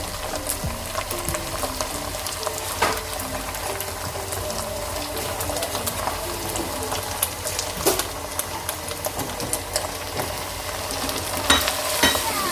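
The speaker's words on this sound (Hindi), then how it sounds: "मसालों को मैं इसके साथ अच्छी तरह मिक्स कर लूँगी" Beef karahi sizzles steadily in the pan as salt, red chilli, Kashmiri chilli, turmeric, ground coriander and cumin are stirred in, with continuous frying hiss under repeated scraping and clattering of the spoon.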